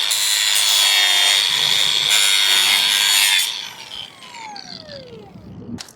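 An LED light track being sawn through, a steady loud rasping cut for about three seconds before the noise drops to quieter scraping and handling.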